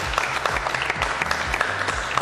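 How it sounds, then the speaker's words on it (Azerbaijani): A studio audience on a TV fashion show claps steadily and densely in sustained applause, with no voices on top. "Alqışlar."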